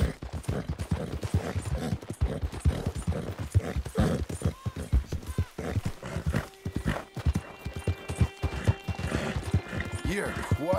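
Horse hooves clip-clop in a steady rhythm in the video game Red Dead Redemption 2, close and clear, with a brief whinny and a voice talking over parts of it.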